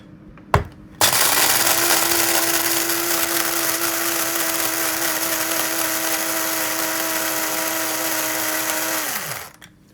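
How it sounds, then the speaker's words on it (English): An electric coffee grinder grinds coffee beans in a loud, steady whir that runs about eight seconds after a brief click, then winds down and stops, with no talk over it. "Now let me grind them beans, okay?"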